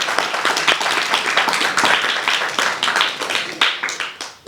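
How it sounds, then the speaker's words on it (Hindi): Audience applause with dense clapping from a crowd at a spiritual talk, steady and loud for several seconds, then thinning and fading toward the end. "ताली बजाइए इनके लिए।"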